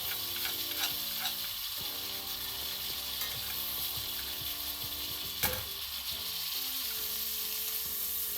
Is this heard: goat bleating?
no